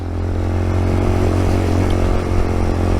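A Magician 250 motorcycle engine on an off-road test ride on dirt and gravel roads, a steady loud drone with slight rise and fall in pitch, close by with rattling and wind noise.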